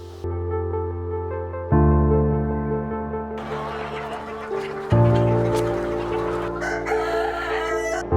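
Sonali-breed chickens cluck steadily while a rooster crows loudly close by, the calls overlapping in a busy, continuous barnyard chorus.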